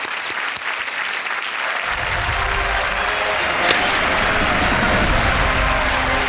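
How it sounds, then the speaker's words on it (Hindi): Studio audience on a TV quiz show applauding a female contestant, a dense burst of clapping that swells in after a brief quiet start and holds loud and steady to the end. "तालियां बजते रहे खुशबू जी के लिए"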